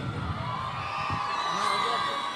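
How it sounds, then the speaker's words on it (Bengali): Festival crowd at a book fair on stage cheers and whoops for Koushani, a steady dense roar of voices with shouts rising over it, clapping blended in throughout. "আসুন সেই আপনাদের সকলের প্রিয় কৌশানীর জন্য একটা জোরে হাততালি"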